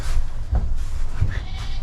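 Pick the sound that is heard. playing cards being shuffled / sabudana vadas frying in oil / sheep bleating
sheep bleating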